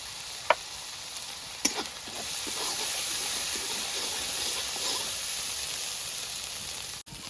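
Cumin and green chilli paste with turmeric hitting hot oil in a pan, a steady loud sizzle and hiss throughout, with a couple of sharp utensil clinks near the start and a brief click at the end.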